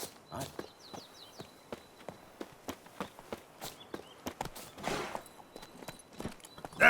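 Hooves of Roach, Geralt's horse in The Witcher 3: Heart of Stone, clopping in a steady walking rhythm. The hoofbeats are soft and fairly quiet, with faint chirps in the background.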